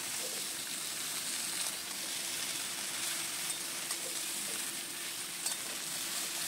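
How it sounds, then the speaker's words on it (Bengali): Malabar spinach stalks fry in hot oil with a steady, close crackling sizzle that holds evenly throughout, with a few faint pops and no voices. "ডাঁটাগুলো দিয়ে দিলাম। এগুলো একটু ভালো করে ভাজবো তেলটাতে।"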